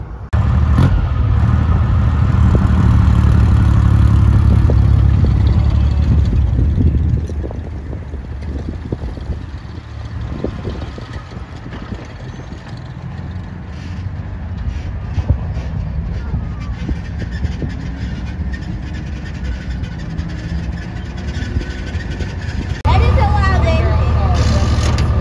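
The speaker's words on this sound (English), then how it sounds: "I'm gonna go ahead and ride on the M5 half track here" A World War Two M3 half-track engine rumbles loudly and steadily during a ride on a warm day in Fairfield, dropping to a lower idle-like drone midway before surging louder again near the end, with mechanical rattles throughout.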